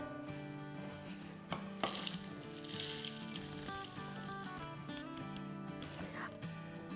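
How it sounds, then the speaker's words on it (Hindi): Spices roasting and sizzling in a pan on a stove while the masala mix is dry-roasted, a steady soft sizzle largely masked by continuous background music throughout. "अब सारी चीज़ों को मिक्स कर लेंगे और 1-2 मिनट तक रोस्ट कर लेंगे"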